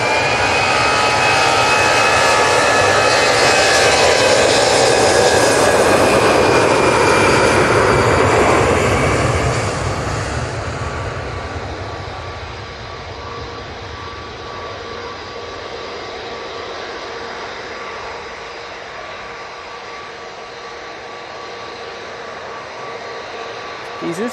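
EasyJet jet airliner on its takeoff roll at Manchester Airport, a loud roaring engine rumble with a rising whine that peaks early and then gradually fades as the aircraft moves away.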